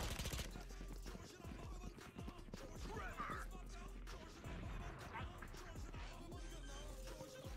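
Rapid gunfire rattles in bursts through an online shooter match, dense and continuous with clattering, hoof-like clicks mixed in, while a voice chats over the game sound.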